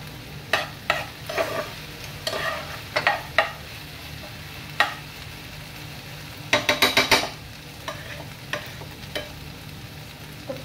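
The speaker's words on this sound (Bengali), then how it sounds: "এখন ঢাকনা ছাড়াই আমি হচ্ছে এটাকে কিছুক্ষণ ভাজবো" Food frying in an uncovered pan, a low continuous sizzle punctuated by sharp spatula knocks and scrapes, including a quick run of four or five clacks midway.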